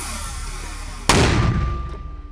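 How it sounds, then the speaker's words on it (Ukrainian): A single sharp, loud bang cuts through steady background noise, followed by a decaying echo. "Постріл!"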